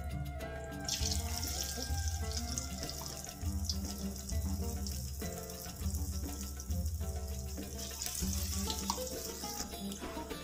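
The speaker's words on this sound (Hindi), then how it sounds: "ये ऑयल बहुत अच्छी तरीके से गर्म हो चुका है, अब मैं इसमें इस तरह कर करके बड़े डालूंगी" Moong dal vadas sizzle steadily as they hit hot oil and fry, a loud continuous crackle and hiss with no talk over it.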